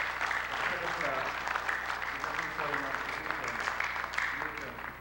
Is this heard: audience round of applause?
yes